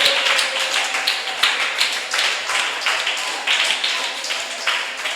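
Worshippers in a church congregation clap hands together in a lively, steady rhythm for several seconds, with a murmur of voices blended beneath the clapping.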